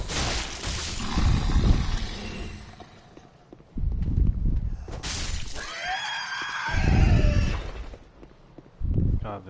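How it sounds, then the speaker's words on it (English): Enemies in Dark Souls III let out loud, harsh screams in several bursts, with roaring, shattering game noise between them; short gaps break up the cries. "God, their screams are so awkward."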